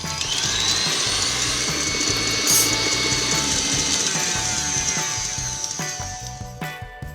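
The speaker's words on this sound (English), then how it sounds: "whip the eggs and the sugar together, making them light and frothy until they double in volume. So I'll mix these on high speed" An electric mixer runs on high speed whipping eggs and sugar, a loud steady motor whine with a rapid rattling churn, then winds down and slows in the last second or two.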